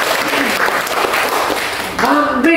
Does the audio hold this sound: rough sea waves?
no